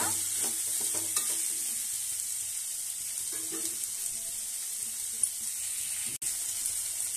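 Chicken frying in a pot for Bhimavaram-style kodi pulao, a soft, steady sizzle with occasional stirring scrapes and a sharp clank near the end.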